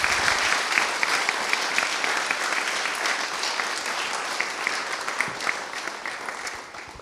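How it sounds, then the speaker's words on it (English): Wedding guests give the groomsmen a round of applause, with dense, lively clapping and a few whoops that hold steady and then ease off slightly toward the end. "I want to raise a massive round of applause for all the boys."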